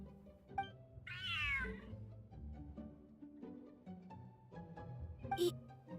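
A cat meows in Genshin Impact, one clear drawn-out meow early on, set against soft game music and ambient chimes, with a brighter chirp near the end.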